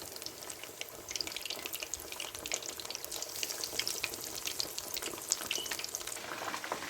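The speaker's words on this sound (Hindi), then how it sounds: "मैं फिश फ्राई कर रही हूँ रेस्टोरेंट स्टाइल" Fish frying restaurant style in hot oil, a steady close crackle of bright spatters and pops that builds slightly after the first second and keeps going without pause; no one speaks.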